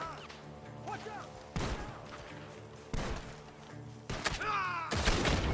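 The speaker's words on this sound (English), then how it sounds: "The gunshots are coming from that barn!" Gunshots in the video game Red Dead Redemption 2, four sharp, loud blasts spaced about a second apart, each with a short echoing tail over a low background rumble.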